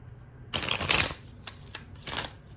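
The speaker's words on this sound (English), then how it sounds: "I'm going to shuffle." Tarot cards shuffled close up at a reading table, a burst of riffling and flicking followed by a few separate short card snaps and a final quick shuffle, with no talk.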